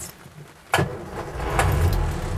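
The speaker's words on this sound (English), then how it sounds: "Starts nicely, and the engine sounds really smooth on it." A 1973 Land Rover Series 3 lightweight engine cranks briefly, catches with a sudden loud burst, then settles into a steady, close idle rumble.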